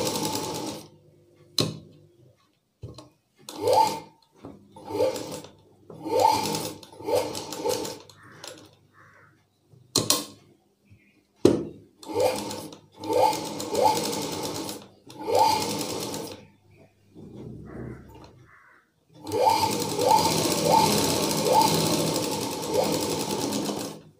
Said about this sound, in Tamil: இந்த கிளாத்தையும் நான் வந்து இதே போல வச்சு தையல் போட்டுக்கிறேன்.